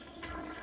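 A toilet flushes in a brief, soft rush of water, heard faintly and alone.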